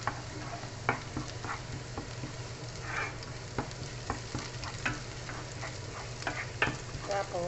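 Garlic frying in a pan, with minced beef added, gives a soft steady sizzle under repeated scraping and stirring clicks from a utensil, fairly close and quiet.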